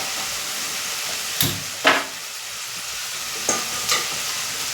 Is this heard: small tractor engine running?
no